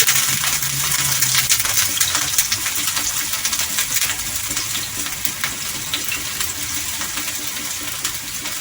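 Chopped onion frying in a pan for Malvani fish curry gives a steady, close, dense sizzle that hisses evenly throughout, with no talk over it.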